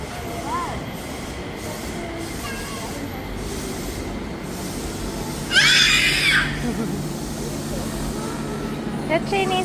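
Train pulling into a station: a steady low rumble of rolling wagons with a sharp burst of high wheel squeal midway, close by, while people talk faintly.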